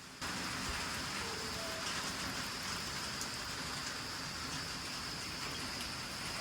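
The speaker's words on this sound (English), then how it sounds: "we had a rain shower typical for this time of year." Steady rain falls on a newly installed roof at a building site during a seasonal evening shower, a constant, even hiss of patter with no voices.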